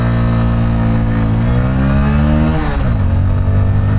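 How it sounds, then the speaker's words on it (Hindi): A new Hero Splendor motorcycle accelerating on a highway, a loud close engine drone whose pitch climbs steadily, drops briefly at a gear change and rises again, with wind rush throughout. "बाइक को करते हैं लॉन्च।"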